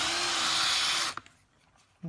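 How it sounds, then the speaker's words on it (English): An angle grinder fitted with a wire brush scours a trailer during restoration, a harsh, loud, bright whine for about a second before it cuts off, followed by a short faint scrape. "To the angle grinder, the wire brush in it"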